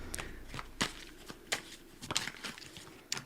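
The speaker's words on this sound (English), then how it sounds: "Now we're going to shuffle them out." Tarot cards being shuffled by hand, heard close up as a series of soft, quick riffling bursts and flicks at an irregular rhythm, fairly faint, with no talking.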